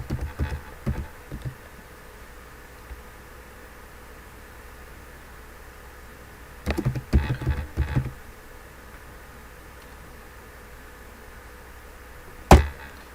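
Someone types a command on a computer keyboard, with a few soft clicks at the start, a quick cluster of keystrokes in the middle and one firmer tap near the end, all over a quiet room hum.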